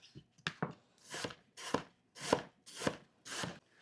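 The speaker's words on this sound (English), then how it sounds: "now we're just going to cut these into some thin slices" A knife slicing a peeled apple into thin slices, making about eight distinct crunchy cuts in an even rhythm, close and clear with no talking.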